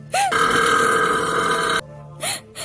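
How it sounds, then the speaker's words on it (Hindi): A loud, drawn-out burp after eating samosas rumbles on for over a second, bracketed by short vocal sounds before and after in a comedic dubbed scene. "तूने भी वही समोसे खाकर मुझे गंदी डकारें सुनाई है"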